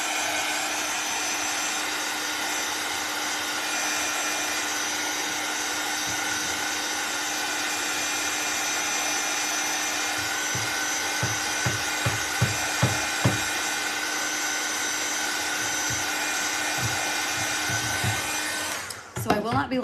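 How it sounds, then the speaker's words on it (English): A dryer blowing steadily to dry glue on a wooden America-themed truck insert, a constant close whirring hiss lasting throughout, with a few brief knocks and rubbing sounds in the middle and a clatter near the end. "let's dry it with the dryer"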